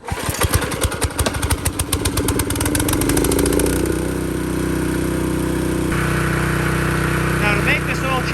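A Honda HS622 snowblower engine cranks with rapid pulsing, catches and settles into a steady, loud idle, heard up close.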